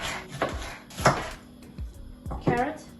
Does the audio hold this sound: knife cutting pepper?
yes